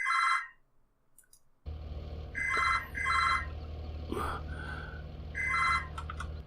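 A telephone rings in repeated bursts of bright electronic trilling, with a pause before the rings resume over a steady low engine drone during a grain harvest.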